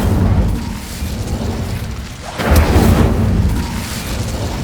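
The Incendio fire spell is cast in the video game Hogwarts Legacy, giving a loud rumbling whoosh of flame with a sharper burst midway through, set against continuous game noise.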